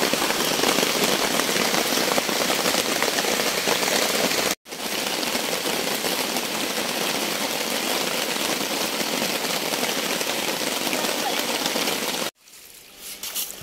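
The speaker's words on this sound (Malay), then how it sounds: "Kalau hujan tak berhenti juga lagi." Heavy rain pours steadily near a small creek in a garden plantation, a dense unbroken hiss that cuts out briefly twice before resuming, with no voices.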